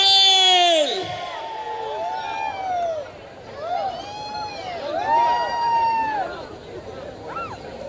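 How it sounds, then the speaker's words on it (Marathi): A lively crowd whistles, whoops and cheers for dancer Gautami Patil's entry at a show in Alibag. Shrill rising and falling whistles ring out repeatedly over a dense, loud hubbub of voices. "आणि तुमच्या टाळ्या शिट्ट्या या झाल्याच पाहिजेत"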